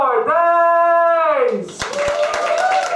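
A stand-up comedy crowd greets a comedian's entrance with a burst of scattered clapping and cheering, right after a loud drawn-out announcing voice.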